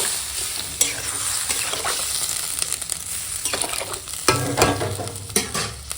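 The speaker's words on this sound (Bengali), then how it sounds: "এবার ঝোলের জাল ওঠা পর্যন্ত অপেক্ষা করবো জাল উঠে গেছে" Thin rohu fish curry broth with ridge gourd and papaya bubbling in a pan, a constant close simmering hiss with intermittent stirring clatters and bursts of boiling, no voices.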